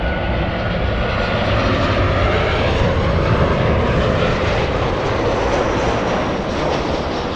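A Delta airliner's jet engines at Los Angeles International Airport give a loud, steady, broadband roar that holds constant from start to finish, with no talk over it.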